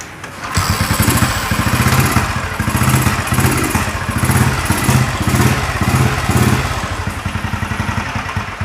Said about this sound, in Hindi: तो दोस्तों ये गाड़ी का साउंड है।